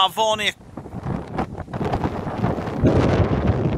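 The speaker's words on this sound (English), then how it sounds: "very windy day, I can assure you" Strong wind buffets the microphone outdoors in Snowdonia beside a 2013 Neoplan Starliner II coach, a loud, gusty rumble running throughout after a man's brief spoken words at the start.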